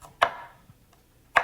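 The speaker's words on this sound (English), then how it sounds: "now I am cutting some sweet, fresh parsley" A knife chops fresh parsley on a board with two crisp, isolated strokes about a second apart, close and clear with near silence between them.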